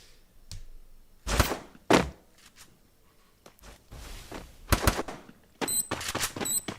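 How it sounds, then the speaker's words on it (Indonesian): Grenades and gunfire in a competitive shooter video game match: several sharp, loud bursts and thumping blasts at irregular intervals, some clustered rapid shots near the end, separated by quieter stretches. "Om Kamiskawa mencoba melakukan spam granat tapi harus kembali lagi memutar granatnya"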